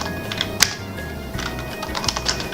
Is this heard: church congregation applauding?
no